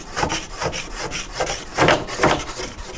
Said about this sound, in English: We're gonna have to scrape the entire thing.